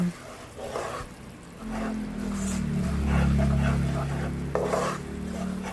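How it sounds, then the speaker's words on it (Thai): Dark soy sauce is stirred into a sweet brown stewed pork sauce in a pan, with a steady low bubbling and soft spoon scrapes beneath a voice. "ใส่ซีอิ๊วดำค่ะ แล้วก็คนให้เข้ากัน"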